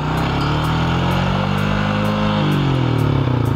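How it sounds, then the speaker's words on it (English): Cummins P7100 diesel engine with its load removed, revving freely upward toward a dangerously high RPM, a loud, steady mechanical roar whose pitch keeps climbing. "there's nothing there that will keep the engine from just keep accelerating until it hits a very dangerous RPM"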